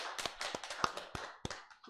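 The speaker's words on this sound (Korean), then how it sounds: "하나님께 영광의 박수 돌려드리겠습니다" At a Korean Full Gospel church Sunday service, a congregation gives faint, scattered handclaps, a handful of separate sharp claps with soft gaps in between.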